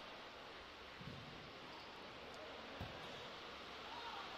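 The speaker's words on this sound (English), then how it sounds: "that is the rain you can hear. Torrential rain in Melbourne tonight." Torrential rain pours over an outdoor football match in Melbourne, a steady broadband hiss across the whole clip with a couple of faint thumps and no clear talk.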